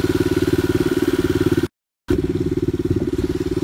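A motorcycle engine idles close by with a fast, even, loud thumping pulse, briefly cut by a short gap of silence before the same steady idle resumes.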